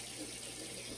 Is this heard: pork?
no